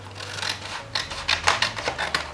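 Scissors snip through a piece of material for a bag during gift wrapping, a close run of short crisp cuts that grows sharper and more distinct toward the end.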